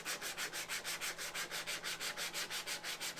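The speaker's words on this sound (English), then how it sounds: "look at me breaking up that rust" Rhythmic back-and-forth rasping of sandpaper scrubbing rust off the dull bit of a splitting axe under light thumb pressure, about five even strokes per second, steady and close.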